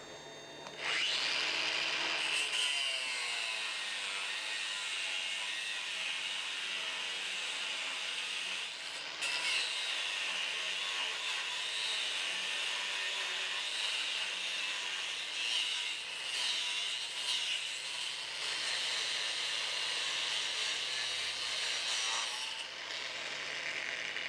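A hot forged metal ammonite piece is cut off with a continuous, close, high-pitched grinding whine that lasts almost the whole time, with slight shifts in pitch and pressure.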